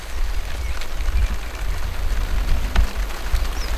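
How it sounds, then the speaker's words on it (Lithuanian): Rain falls on a tent pitched beside a flowing river, a steady, close, broadband hiss with a low rumble that runs without a break and has no voices. "lietus lyja, upė teka, žiūriu, kaip lyja, kaip bėga nuo tento"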